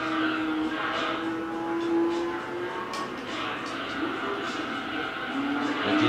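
Nissan GT-R race cars in Gran Turismo 3 slide through a corner, engines droning steadily with tire squeal rising and falling, while a player talks over the racing noise.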